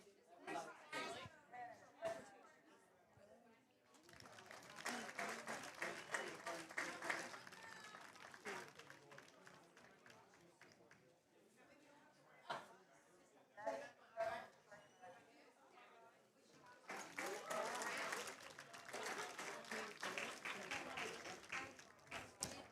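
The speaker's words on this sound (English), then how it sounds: "Let's clap for these seniors here." Audience at a high school swim meet, Destrehan versus Hahnville, applauding seniors in bursts, with crowd chatter and voices between the rounds of clapping.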